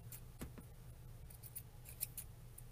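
Scissors snip repeatedly through the yarn of a pom-pom, making quiet, close, quick clicks at an irregular trimming rhythm.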